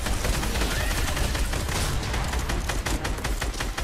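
Gunfire rings out in Fortnite zombies mode while a player shoots at a cube, a dense loud stream of rapid shots that continues throughout with the repeated crack of individual rounds near the end.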